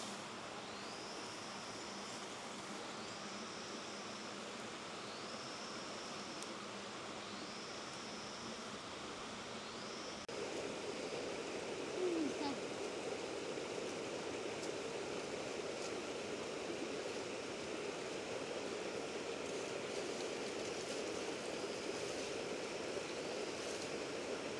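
Steady broadband rush of a stream flowing through a ravine, continuous and fairly loud, with a few repeating chirp-like calls early on and the water growing slightly louder midway.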